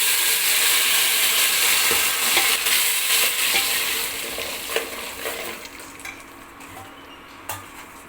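A thick ground paste for rasam hits a hot oil tempering and sizzles loudly, followed by stirring and scraping in the pan as the frying gradually quiets.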